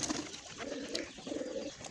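Soft, low cooing from pigeons repeats in two short phrases over a hissy outdoor background, fairly faint and unhurried.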